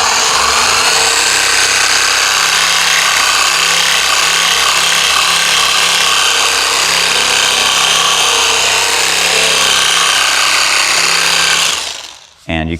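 A 20 mm scraper sander fitted with 80 grit paper grinds across wood in one continuous, loud, harsh buzzing pass, then cuts off abruptly near the end.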